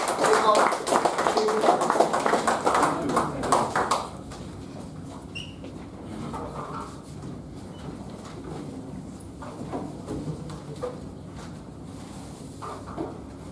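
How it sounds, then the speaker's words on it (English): An audience gives a round of applause for a presenter at a session, a dense burst of many hands clapping for about four seconds, then fading into quiet room noise. "Let's give a big round of applause for Balamurali."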